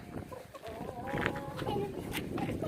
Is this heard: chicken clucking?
yes